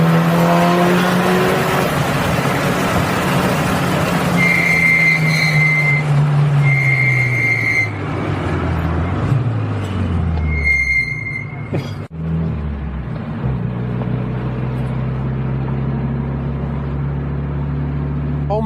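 Mitsubishi Lancer Evo 9 engine driving through city streets, steady loud drone with rising and falling revs, a gear change midway, and high tonal whine along with road noise, no talk.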